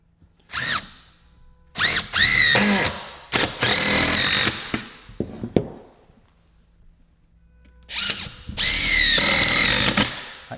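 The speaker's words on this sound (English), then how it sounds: "All I'm going to do is put two nice big 100mm screws through here to screw the top" A cordless power drill driving two large 100mm screws into timber for a guttering planter, with loud close whining bursts that rise in pitch, pause, and start again, about four runs in all.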